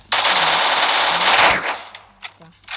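A UMP gun firing in a shooting video game: one loud, close burst of rapid automatic fire lasting over a second, followed by a few faint clicks and thumps.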